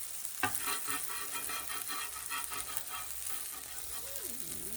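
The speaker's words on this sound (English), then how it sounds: "griddle cakes start to bubble, that's your signal to flip." Griddle cakes fry on a Blackstone flat-top griddle with a soft, continuous sizzle and faint crackle, heard quietly and close, with a brief clink near the start and a faint voice-like tone toward the end.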